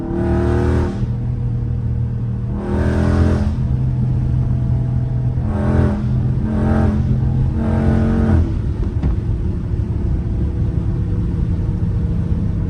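A loud Dodge Scat Pack heard from inside during hard pulls, several deep revving surges that rise and fall in pitch one after another, ending in a steady heavy rumble.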